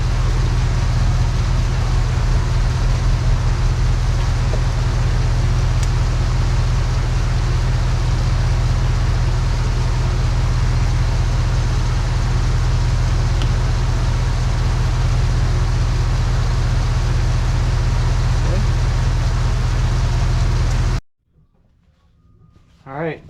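A 2010 Toyota Camry engine, fresh from an alternator install, runs with a loud steady low drone for about twenty seconds before cutting off abruptly, leaving near silence.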